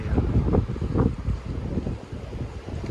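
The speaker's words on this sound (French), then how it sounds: "Là c'est quand même bien venteux, c'est bien secoué." Strong wind buffeting the microphone at sea off São Nicolau, loud continuous gusty roaring in rising and falling surges, with no talking.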